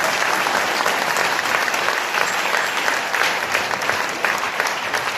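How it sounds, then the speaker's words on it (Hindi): A church congregation claps together in praise during a worship service, producing a dense, steady wall of applause that stays loud and even for the whole stretch with no voices standing out. "ताली बजाकर परमेश्वर की महिमा करें"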